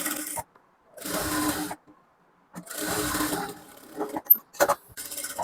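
Sewing machine stitching a strip onto a blouse's main cloth, running in two steady bursts of rapid mechanical whirring separated by silence, followed by a few short clicks and knocks of handling.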